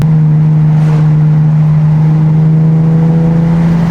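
A Nissan 370Z engine drones loudly under throttle, a steady deep exhaust tone holding close and constant throughout with no voices.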